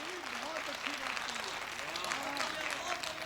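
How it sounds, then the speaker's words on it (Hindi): Crowd applause at a Hindi poetry recital (kavi sammelan), a continuous wash of clapping throughout with a voice speaking over it. "तालियां उठाओ तो जरा मन से उठाओ"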